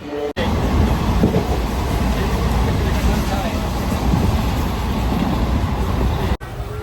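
A train rumbles along steadily and close, a dense continuous roar with faint rhythmic clatter running throughout, briefly dipping near the start and end.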